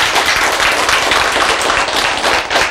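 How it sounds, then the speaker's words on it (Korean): Brief burst of audience clapping during a Korean talk on healthy eating, dense and loud, sustained through the short moment without speech. "박수!"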